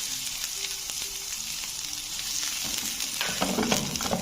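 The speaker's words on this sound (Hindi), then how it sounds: "जैसे हमारा तेल गर्म होता है, ये चॉप किया हुआ लहसुन है ये डाल देते हैं।" Chopped garlic fries in hot oil in a frying pan, giving a continuous close hissing sizzle that grows slightly busier toward the end, with no talking.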